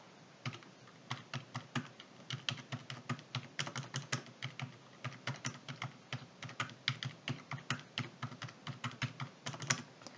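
Rapid, uneven clatter of number keys tapped on a computer keyboard while entering figures into a spreadsheet, a continuous run of close, crisp keystrokes with no talking.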